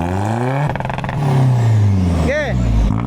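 A modified 2009 Ford Trekker engine revs up and falls back close by, its pitch sweeping in rising and dropping waves, with people talking over it.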